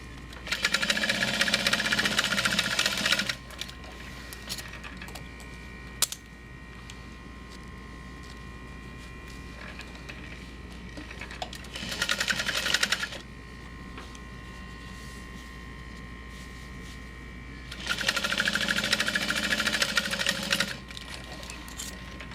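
A home sewing machine stitches along a backpack's folded bottom edge in three short, fast whirring bursts, close and clear, with quiet hum between runs.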